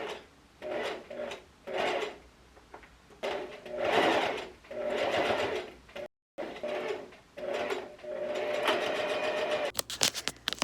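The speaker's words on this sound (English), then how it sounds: "I just need to sew the last part of the handle onto the bag" Sewing machine stitching a fabric bag handle, running in repeated bursts of a few seconds with short pauses between, close and fairly loud, with the whirring motor dominant and no talking.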